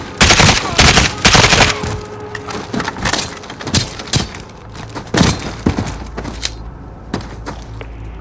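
Rapid bursts of gunfire ring out in a Call of Duty: Modern Warfare firefight, loud, sharp cracks in clustered volleys that thin into scattered shots, with faint voices in the background.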